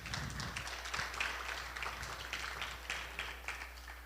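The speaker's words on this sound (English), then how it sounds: "give her a round of applause." A faint audience breaks into applause, scattered hand claps rippling steadily in the distance for several seconds.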